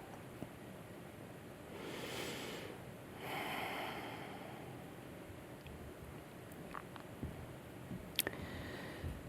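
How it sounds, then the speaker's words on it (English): A slow, deep breath, drawn in and let out as a soft, airy rush over about two seconds, quiet and close against a faint hiss, with a few small clicks afterward. "take a slow, deep breath of integration"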